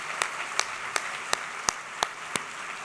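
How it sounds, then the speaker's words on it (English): Scattered claps from a plenary audience at an impact-investing conference kickoff, seven sparse separate hand claps at roughly even spacing over a quiet room, thin and moderately close, with no voices. "let's do a quick round of applause"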